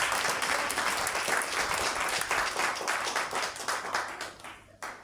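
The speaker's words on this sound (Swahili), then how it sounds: "Tumpigie Bwana makofi mazuri." A church congregation claps together for about five seconds during a sermon, a dense, steady wash of applause that thins out at the end.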